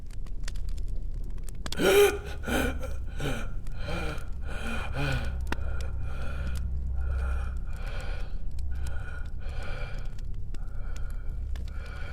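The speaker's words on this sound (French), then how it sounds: "Une grande inspiration maladive déchira le silence de la pièce, suivie de respirations haletantes et rauques." A sickly, deep gasp rasps out sharply in a quiet room, then a long series of rhythmic, hoarse panting breaths follows, close and steady, in a dark fantasy audiobook scene.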